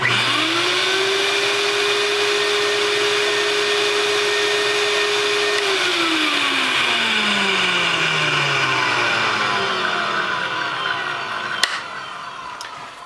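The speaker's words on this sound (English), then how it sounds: "This is what the VPI sounds like" A VPI 16.5 record cleaning machine's vacuum motor whines up to a steady loud drone, holds for several seconds, then winds down with a falling pitch, ending in a brief click.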